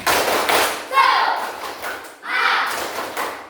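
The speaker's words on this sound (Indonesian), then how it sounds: "Sekali lagi, tepuk semangat." Participants in an Islamic religious education teacher-training session repeat the 'tepuk semangat' spirit clap. A short clap burst is followed by a longer one, both mixed with voices calling out.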